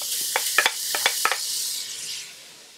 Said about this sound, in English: Put your stove on high, heat up your pan, and we're gonna go ahead and put in our hamburger